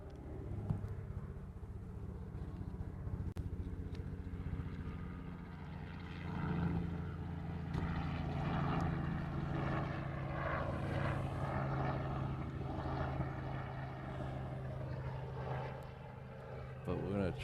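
An Airbus A380 airliner arriving at Honolulu airport gives a steady, heavy engine roar that holds strong throughout, with voices faintly beneath it.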